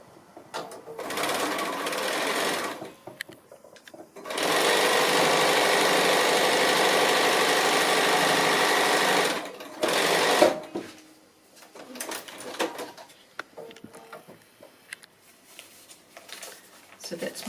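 A sewing machine stitches a seam on a foundation-pieced quilt block, running in two steady bursts, a short one then a longer five-second run, close and loud, with someone talking before and after.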